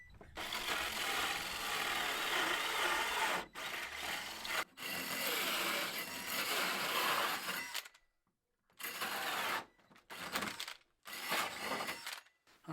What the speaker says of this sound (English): I've got a 60mm drill bit.